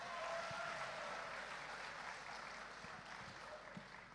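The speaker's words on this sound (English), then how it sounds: "Let me hear a round of applause." Sustained applause rises from an audience at a high school commencement ceremony, a dense, even wash of many hands clapping, heard from a distance and fairly faint throughout.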